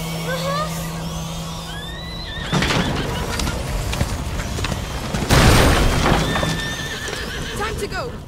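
A horse neighs loudly in the video game A Plague Tale: Innocence, a long whinny amid clattering hooves and rumbling booms, with shouting voices over a tense chase.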